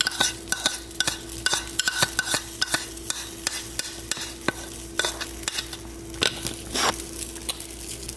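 Metal utensil scraping cooked breakfast food off a hot pan or waffle maker, repeated sharp scrapes and taps in a steady rhythm over a constant sizzle, close and fairly loud.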